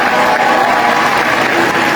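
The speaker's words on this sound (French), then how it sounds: "vous pouvez vous applaudir" A live audience at an eloquence competition gives steady, loud applause that fills the room without a break.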